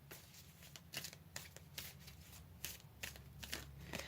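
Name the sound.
shuffling a deck of cards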